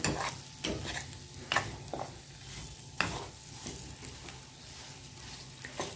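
Masala roasts in oil in a pan for stuffed brinjal, with a constant soft sizzle and occasional scraping stirs and knocks of the spoon, close up and fairly quiet, no talking.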